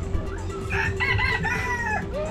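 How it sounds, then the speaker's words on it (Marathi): A rooster crows in a farmyard at Peruchi Wadi near Nashik, one long rising-and-falling cock-a-doodle-doo heard clearly over low rumbling background noise, with no talking. "यार वेगळाच पक्षी कोणता तरी."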